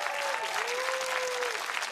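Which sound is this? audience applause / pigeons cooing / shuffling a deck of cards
audience applause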